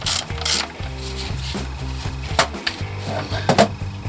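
Ratchet clicking rapidly while loosening the 19mm bolt on the cam chain tensioner of a Suzuki RF 1100 motorcycle, close metallic pawl ticks in repeated strokes with a few sharper knocks between them.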